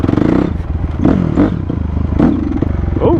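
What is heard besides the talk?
Honda CRF250R dirt bike revving at three-quarter throttle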